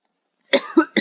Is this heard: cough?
yes